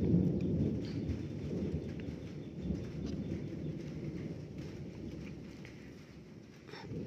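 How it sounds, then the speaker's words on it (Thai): Deep rolling thunder rumbles continuously through the whole stretch, a steady low roar with no clear patter of rain and no voices. "ฝนบ่ตกค่ะมีแต่ฟ้าร้องสิแหละ"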